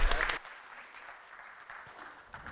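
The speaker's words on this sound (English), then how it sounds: "So once again, huge applause to Natalia." Audience claps for the speaker Natalia at a software-testing talk, a loud burst at first that settles into steady, thinner clapping from a seated crowd.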